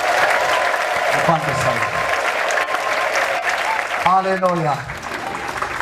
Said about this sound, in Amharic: ሲልልታ ጭብጨባ ለጌታ